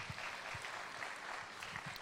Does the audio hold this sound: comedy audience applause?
yes